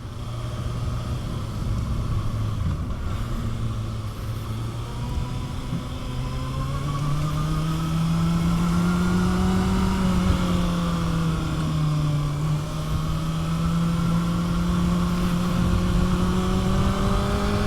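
A motorcycle cruises along a road through twisty sections, its engine a steady, loud drone that rises and falls gently in pitch as the rider shifts speed, with wind rush underneath and no talking.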